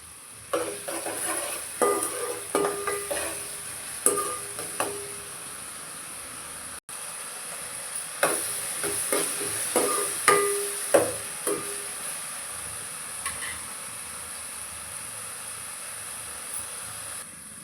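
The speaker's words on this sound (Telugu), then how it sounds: "వేసి బ్రౌన్ కలర్ వచ్చే వరకు వేయించుకోవాలి" Onions frying in oil with salt in a pan, a soft continuous sizzle broken by repeated clinks and scrapes of a spoon stirring, fairly faint and without voices.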